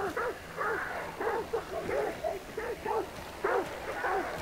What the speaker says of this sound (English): Sam's really helping to shut his dogs up